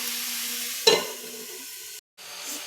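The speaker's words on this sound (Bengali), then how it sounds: "দিয়ে একটু নাড়াচাড়া করে নিচ্ছি।" Vegetables and dried fish stir in a frying pan, giving a close, steady sizzle with a sharp scrape of the spoon and a brief silent gap near the end.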